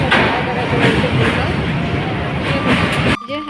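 A train rushes past loudly and close, its rumble carrying a rhythmic clatter, then the sound cuts off abruptly near the end.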